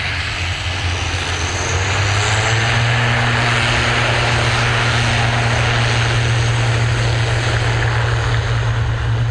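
A Loganair propeller airliner at Manchester Airport, bound for Aberdeen, gives off a loud, steady engine drone with a low, even throb that holds close by for the whole stretch, with no voices over it.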